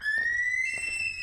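A single thin, clear whistle rises slowly in pitch and holds above a faint, muffled background. It resembles the call of a curlew, a small stork-like wading bird.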